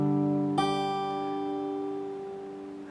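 An acoustic guitar plays the fingerpicked pattern for a song starting from G. Strings ring on sustained until a fresh note is plucked partway through, then the tones decay slowly, clear and alone.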